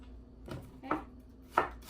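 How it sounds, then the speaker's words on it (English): A knife slices an onion thinly on a cutting board, four quick, crisp chops spaced unevenly, close and fairly quiet with no talk. "Slice thin like this, okay? Really thin."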